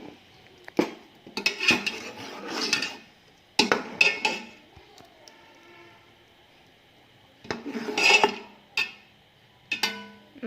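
A spoon scrapes and clatters against a pan of melted, browning sugar during nannari sarbath making, in sharp irregular bursts of metallic knocks separated by quiet pauses.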